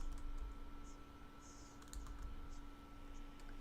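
Fingers typing on a small computer keyboard while setting up an online poll, giving quiet close key clicks in short irregular bursts over a low steady hum.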